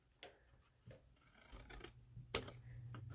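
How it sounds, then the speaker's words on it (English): Scissors snip paper while a 3D camera box is being cut out, a few short crisp cuts with small rustles between them, close and fairly quiet, one sharper snip standing out. "So what I suggest is you snip this one just a little bit."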